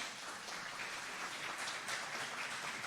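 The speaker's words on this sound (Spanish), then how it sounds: "Bienvenida, contadora Elisa Ibáñez, fuerte el aplauso para recibirla" An audience at a business tax forum applauds to welcome a speaker, a steady, dense patter of many hands clapping, moderately distant and even throughout.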